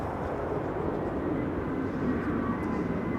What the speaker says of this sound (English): Alrighty, time for KLM flight 765, arriving from Bonar. A330-200, there it is already.